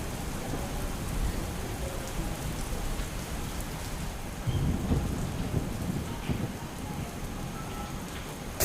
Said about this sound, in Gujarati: હાલોલ શહેરમાં વહેલી સવારથી ધોધમાર વરસાદ વરસી રહ્યો છે